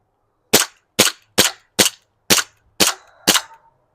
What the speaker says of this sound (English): we are shooting the 1911 at a candle lid and another black lid